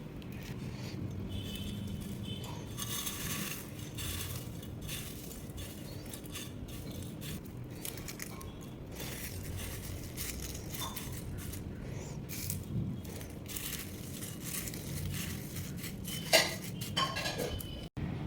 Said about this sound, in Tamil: இதை வந்து நம்ம இப்படி பொடியாக்கிடணும் ஓம் பொடி சத்தம் கேட்குதுன்னு நினைக்கிறேன்